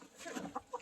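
Soft, short clucks from chickens nearby, a couple of distinct clucks over a faint murmur, quiet and brief.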